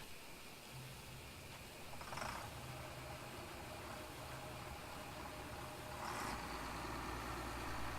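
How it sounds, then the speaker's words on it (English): A tractor engine in Farming Simulator 17 idles with a low, steady rumble, its pitch shifting slightly a couple of times as the throttle changes. "this is what the tractor sounds like"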